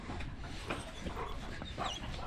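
Sheepdogs bark and whimper while herding ewes on a farm, giving short yips and whines scattered over a noisy outdoor background, fairly faint and distant.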